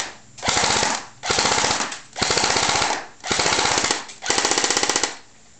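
A G&G AK 104 airsoft rifle fires on full auto in five sharp bursts of rapid mechanical clicks, each about half a second to a second long, separated by brief pauses, loud and close with no talking.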